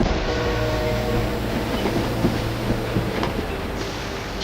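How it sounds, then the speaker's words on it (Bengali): Last train of the night pulling into a rural halt station in heavy storm and rain: a steady, close rumble with rhythmic clatter of railcars, continuous throughout. "প্রবল ঝড় বৃষ্টির মধ্যে রাতের শেষ ট্রেন এসে থামল।"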